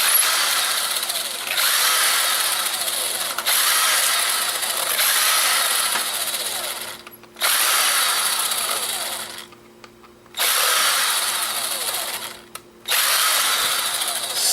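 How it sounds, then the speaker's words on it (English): A power drill unscrewing small screws from scrap electronics holding copper and wiring, loud whirring bursts of a few seconds each separated by short gaps, close up with no talking. "So let's unscrew some of this stuff."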